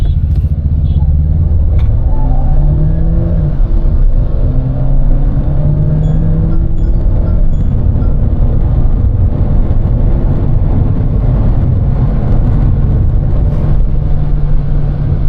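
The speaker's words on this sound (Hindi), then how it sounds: "One more time, check out the acceleration." A Mahindra XUV700 turbo petrol SUV accelerating hard, a steady loud engine drone with rising tones as it pulls through the gears from inside the cabin, without talk.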